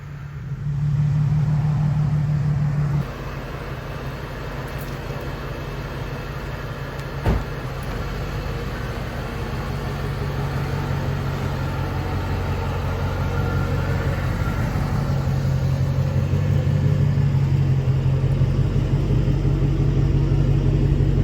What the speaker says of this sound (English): We're pulling our Dodge Charger in here.